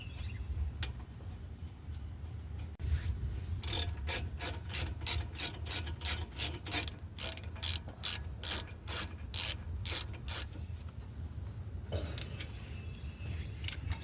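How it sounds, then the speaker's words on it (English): Ratchet tightening brake caliper bolts on a 2019 Infiniti QX60 3.5L during a front brake and rotor replacement: fast, close clicking in rapid bursts for several seconds, then a short final burst after a pause. "So let's go ahead and put the bolts back in for our caliper."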